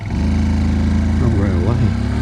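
A 2026 Honda C125 motorcycle pulling away from traffic lights, its small single-cylinder engine rising in pitch from a steady close putter, with a voice speaking over it.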